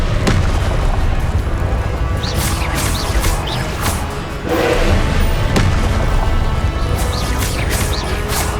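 Repeated booming fire-spell explosions from Hogwarts Legacy crash and burst in quick succession, loud and dense with crackling debris between the blasts.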